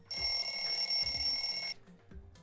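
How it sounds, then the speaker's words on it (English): An in-game wall clock alarm in Danganronpa 2 rings loudly and continuously as a bright, piercing electronic bell for about a second and a half, then cuts off, leaving quieter low game sounds underneath. "The lounge's wall clock alarm started ringing at 5:30."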